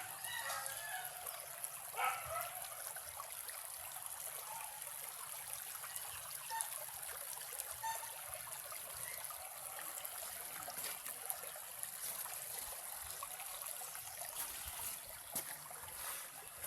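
Creek water flows steadily with a gentle, continuous trickling rush, heard from nearby outdoors, with small splashes and faint background sounds.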